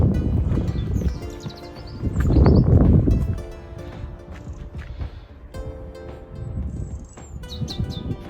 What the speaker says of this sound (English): Lovely to hear a bit of bird song, isn't it?